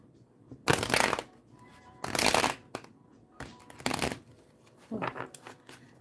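A deck of cards shuffled by hand, four crisp riffling bursts about a second each with short pauses between, close and clear with no talk.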